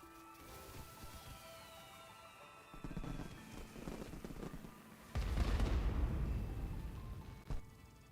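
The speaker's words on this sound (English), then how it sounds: "Fireworks are over." Fireworks bursting in the video game Duet Night Abyss, a run of booming thuds and crackles that grows louder toward the end, with one sharp final bang.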